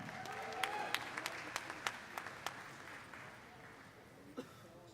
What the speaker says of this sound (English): Let's give them a round of applause as they head out.